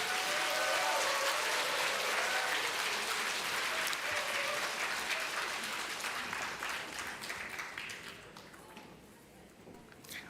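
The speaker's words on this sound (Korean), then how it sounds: "우리 다 같이 인사하실 때 박수로 인사해 주십시오." A church congregation at Sunday worship claps together in steady, moderate applause that gradually thins and fades toward the end.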